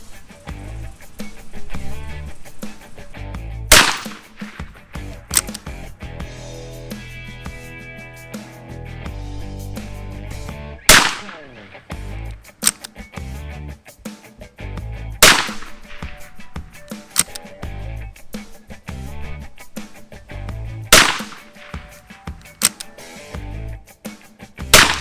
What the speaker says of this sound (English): There's nothing wrong with the way the rifle shoots.